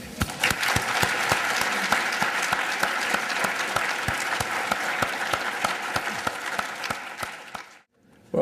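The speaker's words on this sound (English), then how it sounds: "we should give another great round of applause and for these speakers" Sustained audience applause for speakers at an anniversary event, a dense steady patter of many hands with a few louder individual claps, holding for about seven seconds before stopping abruptly.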